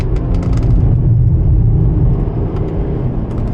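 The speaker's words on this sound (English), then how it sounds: "Though it is a diesel and it has tons of torque, you still want to utilize that bigger turbo up top" A diesel BMW E90 engine pulls hard on a canyon road, its turbo spooling up as the revs climb. The deep, steady drone fills the cabin for a few seconds, with no talking over it.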